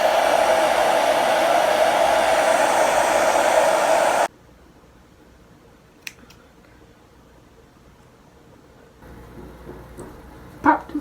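A hair dryer blows steadily and loudly at close range while drying a wig cap, then cuts off abruptly after about four seconds, leaving quiet room sounds with a few faint clicks and handling noises.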